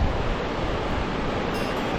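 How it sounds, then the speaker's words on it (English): Two rivers meet in a strong current, giving a broad, steady rushing roar heard from nearby with some wind buffeting the microphone, continuous and free of voices. "The current in the water is splendid."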